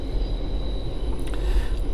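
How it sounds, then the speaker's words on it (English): Train rumbling past in Brooklyn, a steady low roar with faint metallic squeals, heard at moderate distance and alone. "Gotta love those trains, huh?"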